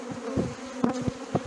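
Honeybees drone around an opened hive during an April colony inspection in Brno, a continuous near hum interrupted by several louder buzzing passes as bees fly close.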